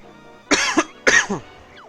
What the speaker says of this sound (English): Excuse me for coughing directly into the microphone.